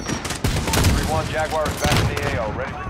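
Gunfire in the Call of Duty Modern Warfare campaign: a few sharp shots crack out in quick succession while a player talks over them.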